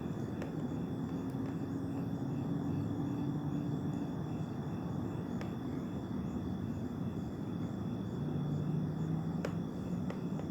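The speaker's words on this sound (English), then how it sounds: "all I just see are airplanes just flying around out here individually" Airplanes drone overhead outdoors in a steady, distant rumble lasting the whole stretch, with a few faint clicks and a soft background hiss.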